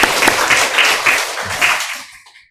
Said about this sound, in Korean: 식사로 섬겨주신 조 박수 한번 하겠습니다